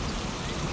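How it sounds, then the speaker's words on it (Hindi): Dense, steady cartoon storm rain hisses continuously, a heavy downpour with no pauses. "तूफानी बारिश शुरू हो गई।"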